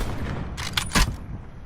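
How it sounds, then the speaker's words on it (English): A few bursts of gunfire in the Call of Duty Blackout battle royale game, two or three quick loud cracks close together, heard alone over a quiet background. "I'll keep firing away as much as I can"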